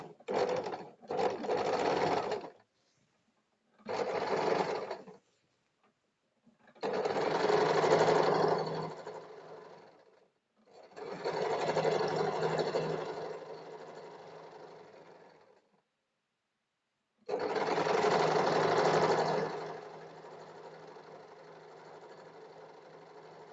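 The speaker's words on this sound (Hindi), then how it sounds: "इसमें हम एक साइड पहले इसको सिलाई लगाते हैं।" A sewing machine stitches a 1.5-inch strip along one side for a princess-cut blouse, running in several separate bursts, short at first and then longer and steady, loud and close with pauses of silence between runs.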